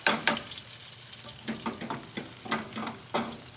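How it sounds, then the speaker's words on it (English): Beef sizzling and crackling in a hot wok, a steady frying hiss with sharp bursts as the meat hits the pan and is stirred. "Look, sizzling sound."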